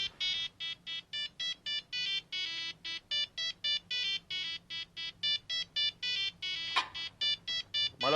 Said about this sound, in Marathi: मला वाटतं तुमचा फोन वाजतोय.